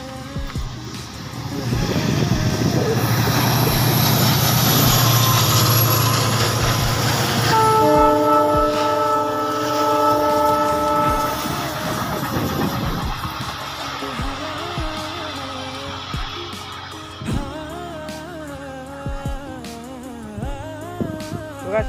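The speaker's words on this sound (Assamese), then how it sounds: "আৰু মোৰ ট্ৰেইন আহি আছে" A train rumbles past close by with a loud, steady roar, sounding a sustained horn midway, then rolls on with clattering wheels fading slightly.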